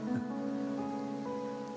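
Soft, steady rain falls in the Wuthering Waves video game, a faint patter beneath sustained tonal music with no voices.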